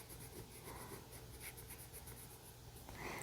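A tiny colored pencil scratches across paper as a vibrant blue layer is applied, a soft, steady rasp of short repeated strokes close up.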